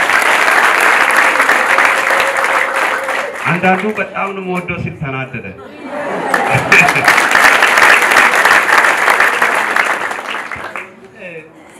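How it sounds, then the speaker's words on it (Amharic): A church congregation applauds loudly in praise at a prophet's service in Ethiopia, with sustained clapping under a preacher's voice, easing mid-way as he speaks alone, then swelling again before fading at the end. "አጨብጭቡ ለእግዚአብሔር"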